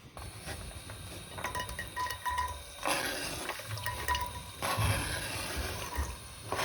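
Carrots, onion and celery go into warm olive oil in a cast iron pan, producing a soft, steady sizzle with light stirring and occasional clinks, fairly faint and close.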